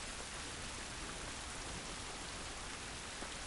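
Rain in The Last of Us Remastered, a steady, even hiss of falling water, soft and continuous with no other sounds.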